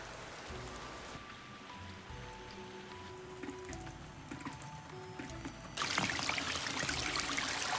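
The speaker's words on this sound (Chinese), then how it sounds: "这暴雨下的是好大呀！" Heavy rain falls steadily over a mountain village, then swells into a louder, denser downpour for the final couple of seconds.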